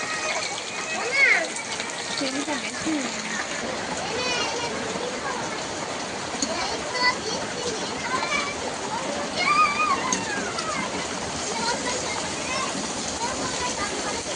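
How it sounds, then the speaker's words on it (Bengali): Broadband hiss of heavy monsoon rain pouring steadily, with a person talking over it and a few other voices nearby. "ঝমঝমিয়া বৃষ্টি পড়ছে একদম মুসলধারায় বৃষ্টি যেটা বলে সেটাই হচ্ছে"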